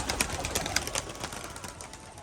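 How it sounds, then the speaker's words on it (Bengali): Turkish Tumbler pigeons leave their loft with quick, soft bursts of wing flutter and faint cooing, close by and fairly quiet, with no voices. "দেখুন পায়রাগুলো কিন্তু সবই বেরিয়ে যাচ্ছে আস্তে আস্তে"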